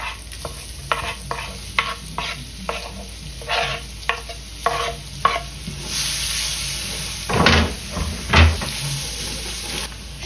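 An onion added to a pan of spices and stirred: a run of rhythmic scraping strokes of a utensil against the pan, then a louder sizzling hiss and a couple of sharp knocks close by.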